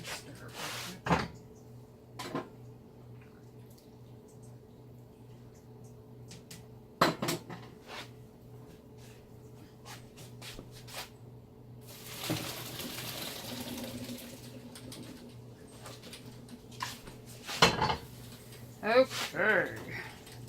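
Macaroni being stirred in a pot on the stove, with scattered clinks and scrapes of the utensil against the pot over a steady low hum, growing busier with a rushing burst toward the middle.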